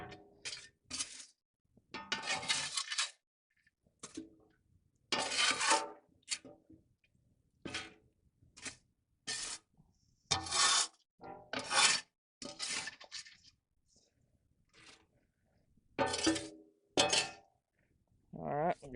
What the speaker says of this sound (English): I got that coal bed smashed down.